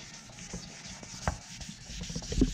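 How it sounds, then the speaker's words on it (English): Wet sanding by hand, a soft irregular rubbing and scraping at close range with scattered light knocks and a louder bump near the end, no voices. "Just wet sanding and more wet sanding and more wet sanding."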